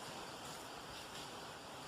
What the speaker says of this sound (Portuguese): Está dando um vento aqui.